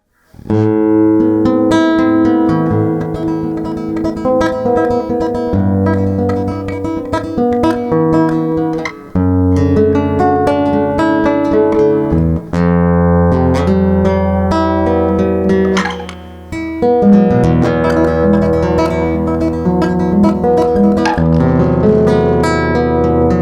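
Nylon-string classical guitar with a pickup, a Natasha Cosmos NSX-R, plays a continuous flowing passage of plucked notes and chords, clear and close, with no voices.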